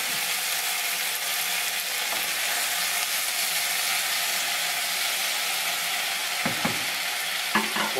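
Onions, garlic, peppers and tomato fry in a pan for ratatouille, a steady loud sizzle with a few scraping stirs near the end and no talk.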